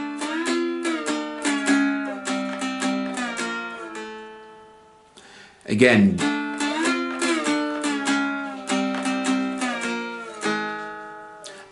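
Dulcimer played with a slide, the last line of a twelve-bar blues, with plucked notes and sliding pitch bends in a steady rhythm, close and clear; a brief spoken word breaks in midway.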